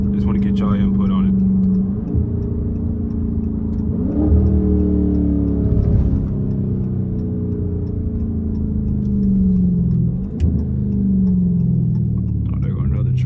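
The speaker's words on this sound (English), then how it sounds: "Let me know if y'all enjoying the straight pipe though, man." A straight-piped Dodge Charger Scat Pack exhaust booms and rumbles as it accelerates at night. Repeated rising revs break at each gear change, loud and close under steady road noise.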